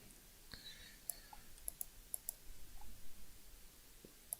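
Soft, scattered keyboard clicks from typing on a computer, faint and irregular with short pauses between keystrokes, in a quiet room.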